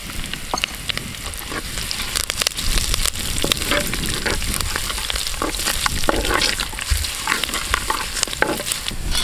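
Curry leaves and kanthari chillies fry in hot oil while being stirred, producing a loud, continuous sizzle with dense crackling pops and intermittent scraping.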